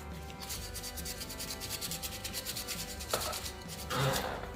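Rapid back-and-forth hand sanding of a wood carving, a quick steady rhythm up close, followed by a couple of light knocks.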